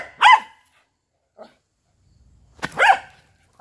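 A puppy barks in two short bursts, close and loud, with a faint yip between them and a low rumble after, in a household setting.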